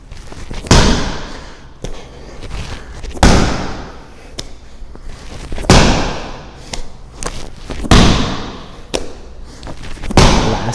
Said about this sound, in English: What we're going to be doing is side medicine ball slams.